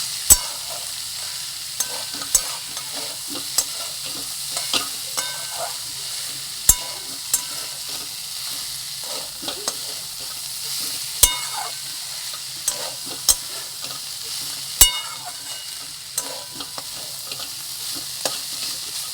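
Boiled banana stem, salted and sprinkled with turmeric, fries in a pan while a spoon stirs it, giving sharp clacks at irregular intervals over a low, constant sizzle, close up and with no speech.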